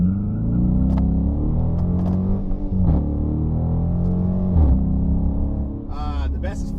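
A 2019 Dodge Charger R/T accelerating hard from 0 to 60 at night, loud engine notes climbing in pitch through repeated gear changes, bouncing off the rev limiter, heard from the cabin.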